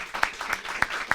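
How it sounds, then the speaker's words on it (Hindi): Scattered claps at an Independence Day event in India, four distinct sharp hits spaced across a short stretch of quiet, fairly faint. "जोरदार तालियां हो"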